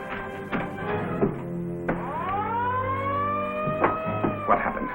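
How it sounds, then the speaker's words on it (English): An alarm siren sounds aboard a ship, its wailing tone sliding and rising through sustained harmonics, loud and continuous with clanks and background commotion mixed in. "that's the alarm"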